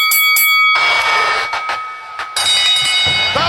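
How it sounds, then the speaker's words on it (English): A ring bell rings at the start of the Randy Savage versus Ultimate Warrior match at WrestleMania 7: several loud clanging strikes up close, then a roaring arena crowd takes over. "Bell's gone."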